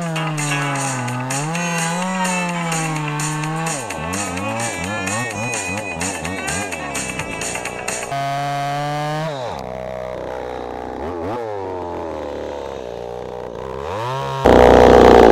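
A ported chainsaw cutting wood: a loud, steady high-revving engine whine that bogs and dips in pitch as the bar works through the cut, rising again between cuts, close and continuous.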